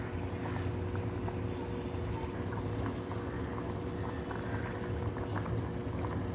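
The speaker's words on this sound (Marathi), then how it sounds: "अशी उकळी फुटलेली आहे" Misal usal curry at a rolling boil in a pot, a steady low bubbling and simmering churn, close and continuous with no talk.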